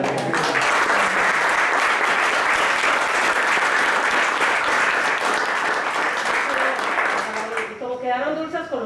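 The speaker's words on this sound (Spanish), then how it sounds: "quiero pedir un aplauso para los locales" A seated audience at a panel session claps steadily and loudly for several seconds, a dense, even wash of applause that fades near the end as a voice begins speaking.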